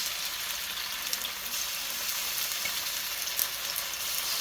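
Stir fry cooking in coconut oil, a steady, close sizzle and crackle of food frying in the pan, continuous and fairly loud with a few brief pops and no talking.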